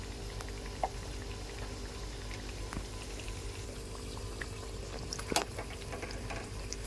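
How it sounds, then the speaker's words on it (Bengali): Chhana kachori deep-fry in oil with a soft continuous bubbling hiss, quiet and steady, marked by a few faint clicks of a utensil. "সবগুলোই ভেজে নেব"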